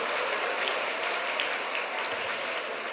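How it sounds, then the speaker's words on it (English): The audience at an awards gala applauds in a dense, sustained wash of many hands clapping at once, steady and loud for the whole stretch with no clear talking over it. "So yes, an applause for the YWCA and the great work that they do in the city."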